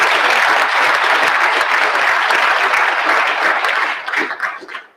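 An audience gives a round of applause for the Montgomery County Commissioners at a county address in Ohio, full and sustained clapping that thins into a few scattered claps and then stops.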